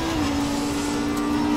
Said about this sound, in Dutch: De motor is lekker soepel. Het is een V10,